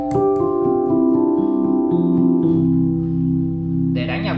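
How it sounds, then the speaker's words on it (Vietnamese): A Roland HP508 digital piano set to its electric piano voice plays sustained, ringing chords that shift in pitch, close and clear, with no talking. "Đây là tiếng piano điện này"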